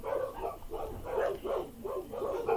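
Several dogs bark repeatedly in a rhythmic series of loud, close barks with occasional yips, filling the room with no speech.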